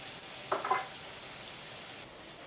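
Soft, steady sizzle of squash soup ingredients with ginger, basil and black pepper sautéing in a pan, with a brief stir or clatter early on over a constant hiss.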